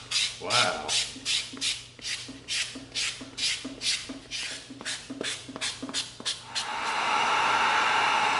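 EVA foam being sanded with fine 220 grit sandpaper, a run of rhythmic back-and-forth rasping strokes up close, ending in a steadier hiss.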